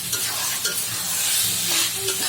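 Rice tumbles into hot oil for an Eid biryani and gets stirred, making a loud, dense, continuous sizzle with scraping stir sounds close by.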